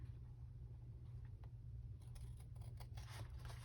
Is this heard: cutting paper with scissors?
yes